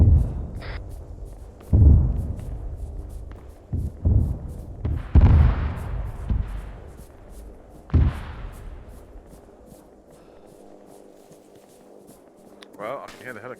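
Dynamite blasts in a military video game: several heavy booms and sharp explosions go off at irregular intervals, some close and loud, others fainter, separated by rumbling debris and quieter stretches.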